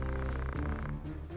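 Frog croaking in the video game Final Fantasy Tactics, a buzzy tonal croak with a bright electronic edge that stays loud, steady and alone, then shifts to lower notes partway through.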